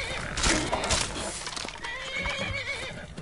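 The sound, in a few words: horse neighing in a video game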